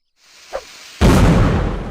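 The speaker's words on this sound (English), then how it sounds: "Pressing the left mouse button will fire the cannon" A single cannon shot fired in the Mount and Blade Napoleonic Wars video game: a faint click, then a sudden loud boom that decays into a long rumbling tail, with no other sound.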